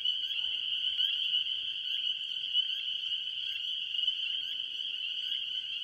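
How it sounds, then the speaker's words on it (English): In a marsh, a spring peeper calls close by as a continuous high trilling chorus, steady and fairly faint, with no voices. "We've got a spring peeper really close to us."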